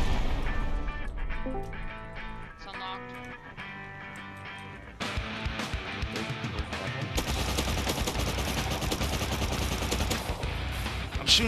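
Gunfire rings out in Rust during a raid defense, a shooter firing through a narrow slit; repeated loud shots and rapid bursts run over a dense background of game music and noise, growing busier and more continuous in the second half.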